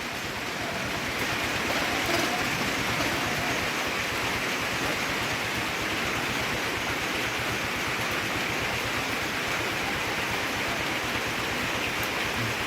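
Steady, dense rain falls around a rural house in Thailand, a loud, unbroken hiss that holds level throughout with no talking.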